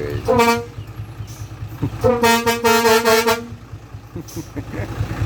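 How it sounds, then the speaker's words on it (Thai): A vehicle horn sounds loudly twice, first with a short toot and then with a longer, sustained blast, over road noise and some nearby voices. "แตร"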